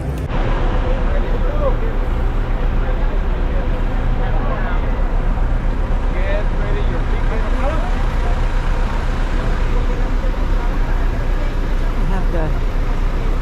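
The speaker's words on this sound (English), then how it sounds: "Buses right on the pier next to the ship." Buses rumble and idle on a cruise ship pier at Puntarenas, a steady low motor drone with traffic noise throughout, while a person talks over it.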